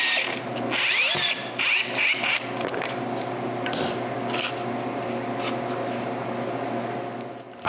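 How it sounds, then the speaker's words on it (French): Power drill boring a pilot hole for a screw into wood in a home workshop, a steady continuous whine close by with a rasping, rubbing bite as the bit cuts. "je perce un trou pilote pour la vis"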